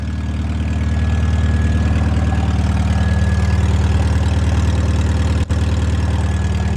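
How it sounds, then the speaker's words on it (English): A car engine with a worn muffler runs steadily as the throttle is raised, a loud, even low-pitched drone that swells slightly and then holds, close up, with no talk. "Watch what happens when I raise the throttle."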